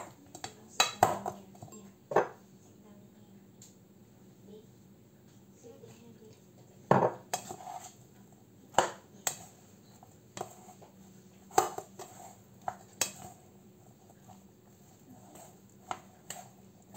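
Rice stirred with vinegar in a bowl for vegetarian sushi: scattered clinks and scrapes of a utensil against the bowl come in irregular bursts, close and fairly quiet.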